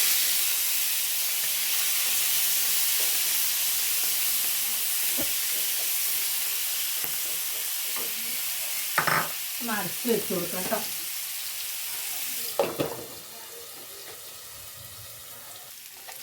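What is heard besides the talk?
prawns frying in hot oil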